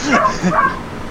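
A dog's short yipping bow-wow barks sound close by, two quick bursts mixed in with people talking, over background noise from a Farming Simulator 17 multiplayer session.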